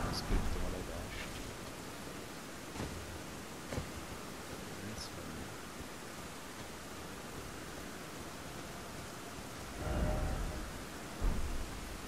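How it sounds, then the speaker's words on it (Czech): Rain pours continuously in Elden Ring Shadow of the Erdtree, a dense steady wash of noise, broken near the end by low thunder rumbles swelling up close, with faint talk in the background. "Přesně, takže neskryptovaný déšť."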